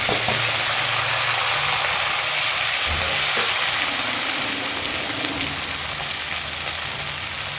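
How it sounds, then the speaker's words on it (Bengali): Chopped onions and green chillies fry in a pan with a loud, continuous hissing sizzle, briefly interrupted by a dull knock of stirring partway through, then settling into an even crackle. "পেঁয়াজ কুচি দিয়ে দিলাম, পেঁয়াজটা ভাজে নিলাম করে ভাজা হয়ে গেছে, কাঁচামরিচটা দিয়ে দিলাম।"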